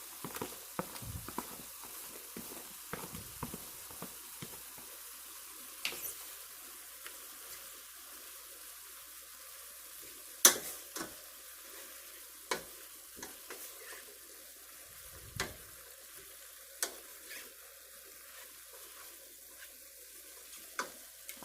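Peppers and onions fry in a pan with a little water and oil, a soft steady sizzle broken by intermittent stirring clicks and scrapes, fairly faint and with no talking.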